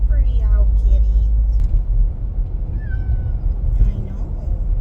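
A cat gives a couple of meows close by inside a moving car, over heavy low road rumble, with some faint voice sounds mixed in.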